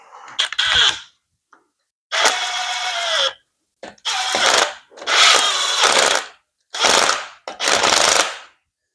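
A power driver spins bolts in during final assembly of a Hummer Alpha 5.3 LH8 engine, six short loud whirring bursts, close up, separated by brief silences.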